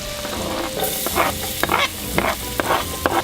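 Garlic frying in melted butter in a pan on a houseboat, a steady close sizzle broken by stirring scrapes and small pops.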